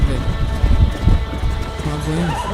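In the video game Red Dead Redemption a horse gallops with quick clip-clop hoofbeats, then lets out a rising, wavering neigh near the end, with the game's background sound underneath.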